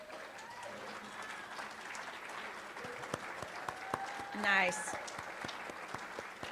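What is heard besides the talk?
applause for sponsors at a meeting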